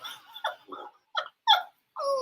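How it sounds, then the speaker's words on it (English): A neighbor's dog nearby gives a run of short barks, growls and whimpering yips in uneven bursts with brief pauses between them. "That's my neighbor's dog."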